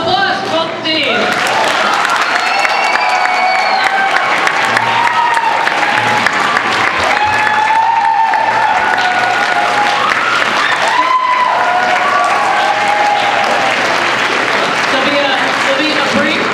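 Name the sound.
audience applause for both teams at middle school debate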